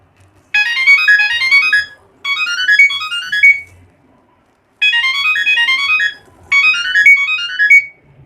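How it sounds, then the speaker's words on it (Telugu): A Samsung Galaxy SmartTag plays its ringtone: four loud, close bursts of a bright descending electronic melody, separated by short silences. "మీకు 2-3 రింగ్ టోన్స్ ప్లే చేసి చూపిస్తాను."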